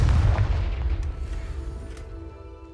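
A Confringo fire-blast spell explosion in Hogwarts Legacy, a heavy booming blast at the start whose deep rumble slowly fades over nearly three seconds, with faint crackles in the tail and no talking.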